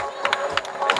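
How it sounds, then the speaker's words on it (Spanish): Brief applause and cheering from a crowd greeting a runner at the finish of a 10K race in Los Cardales, made of a few scattered claps over a faint murmur. "Un aplauso para ella."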